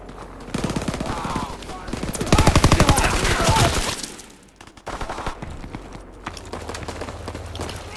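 Rapid bursts of automatic gunfire and scattered shots in a WW2 shooter game, loud and dense in the middle and then thinning to sporadic cracks alongside battle noise.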